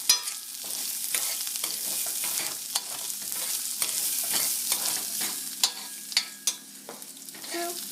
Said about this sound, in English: as this is frying, the rice is frying